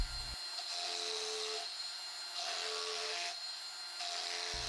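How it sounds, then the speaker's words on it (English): A palm router fitted with a chamfer bit trims milling tabs off plywood, a steady high whine of spinning with the pitch shifting as the bit cuts in several passes. "I removed the milling tabs with a chamfer tool in a palm router"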